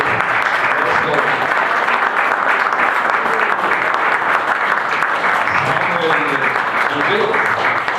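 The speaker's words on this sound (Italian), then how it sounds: "un applauso a loro due" Audience applause at a talk on building the Aiello globe, dense and steady clapping from a crowd filling the whole stretch at constant loudness.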